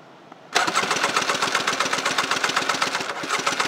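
A 1993 Tigershark 644 cc personal watercraft engine, magneto side, cranks over on the starter during a compression test, a loud steady rhythmic churning that kicks in abruptly after a brief quiet moment and continues evenly to the end.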